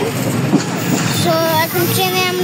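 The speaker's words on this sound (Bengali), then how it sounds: "আছি এখন ট্রেনের মধ্যে" Inside a moving train, a steady, close rumble of rolling wheels and carriage noise fills the space, with a voice briefly audible under it.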